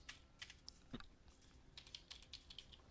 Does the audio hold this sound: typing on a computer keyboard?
yes